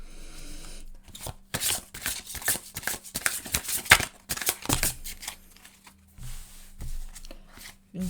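Tarot cards being shuffled close by, a run of quick papery riffles and flicks that thins out and leaves quiet gaps near the end, with no talk.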